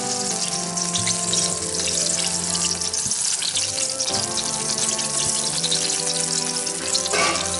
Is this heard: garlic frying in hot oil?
yes